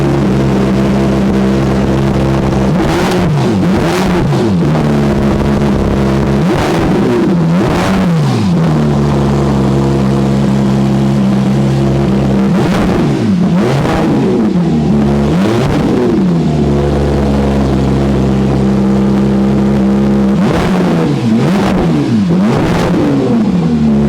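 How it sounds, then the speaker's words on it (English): A Porsche 911 GT3 RS flat-six with 2,000 miles on it revving repeatedly while stationary, loud close exhaust blips rising and falling over a rough idle, about a dozen sharp revs spaced irregularly. "Beautiful exhaust note, and that's, guys, that's not a V8, that's a 6."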